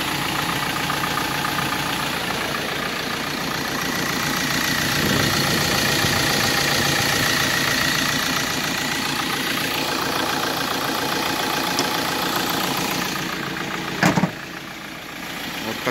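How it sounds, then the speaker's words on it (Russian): A used Ford Transit van imported from Germany idles steadily at close range, a constant mid-to-low engine drone with faint knocking texture throughout, and a brief sharp click near the end. "Двигатель работает хорошо."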